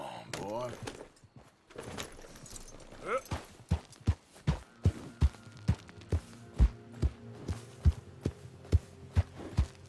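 Horse hooves in the video game Red Dead Redemption 2, a steady walking clip-clop of about a dozen evenly spaced thuds, preceded by a voice talking.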